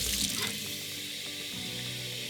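Water poured out of a canning pot, a steady splashing gush that starts loud and continues as a running pour, with no voices.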